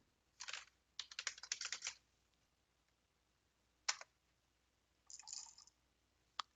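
Someone types dice commands into a chat on a computer keyboard in a few quick bursts of soft key clicks, with pauses between them, close and quiet.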